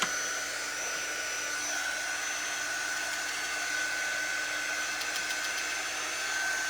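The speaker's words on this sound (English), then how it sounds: "I'm going to go ahead and dry this." A dryer blows steadily to dry a freshly applied craft transfer, giving a continuous loud whooshing hum with a faint high whine that holds evenly throughout, with no talking.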